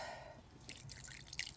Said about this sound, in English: I am going to add a tiny bit of water because that was so dry